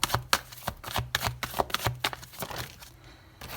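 Tarot cards shuffled by hand at close range, a rapid run of sharp riffling slaps and flicks in an uneven rhythm that thins out toward the end.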